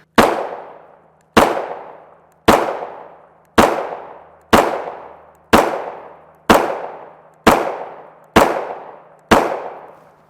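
A Gen 4 Glock 19 MOS pistol with a flat-face trigger fires 9x19mm 124-grain FMJ rounds in ten sharp, loud, evenly spaced shots about a second apart, each ringing out and decaying before the next.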